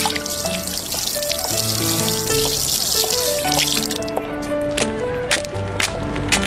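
Water poured into a small container for a kitten, a continuous splashing trickle close by that thins toward the end, with faint clinks.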